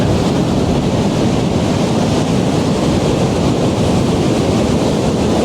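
Sea waves crash and churn into foam in a continuous loud roar of surf, with wind buffeting the microphone throughout and no voices.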